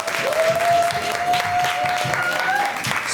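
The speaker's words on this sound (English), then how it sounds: "One more round of applause for Pamela." Indoor audience applauding steadily for a few seconds, dense clapping with a few cheers and whoops on top.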